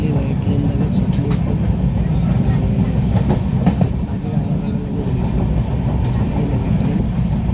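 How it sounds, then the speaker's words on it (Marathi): A passenger train pulls out of the station with a steady, loud low rumble and faint rattles throughout, while people talk nearby. "सुटली बाई ट्रेन, लगेच सुटली."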